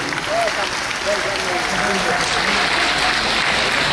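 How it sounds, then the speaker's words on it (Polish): Audience applause at an outdoor event summary gathering, dense steady clapping throughout, with a voice speaking over it. "Janusz Kotowski, wielkie uznanie, brawa, podziękujmy serdecznie"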